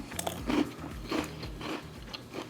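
Close crunchy bites and chewing of popcorn mixed with Nilla wafer, lemon pound cake popcorn and white chocolate, several crisp crunches in quick succession at low volume.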